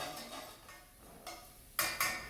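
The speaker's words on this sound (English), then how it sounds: "I've got my onions pre-cut. Going into the pan." Pre-cut onions dropped into a heated home-kitchen pan, a few soft clatters of pan and utensil followed by two sharper sizzling bursts near the end, close and fairly quiet with no talk.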